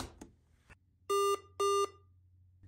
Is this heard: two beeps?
yes